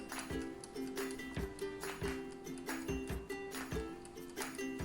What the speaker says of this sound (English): Now the tick-tocking noise you can hear, that's the timer.